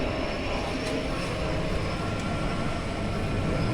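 A farm tractor engine throttled up to about 1800 RPM while planting corn with a planter lowered, giving a loud, steady, continuous mechanical roar that holds at one level throughout with no talk over it.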